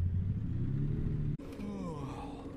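A truck engine in a video game holds a low, steady rumble, then cuts out for an instant and comes back as a rising rev with a whining tone, close and fairly loud, and no one speaks over it.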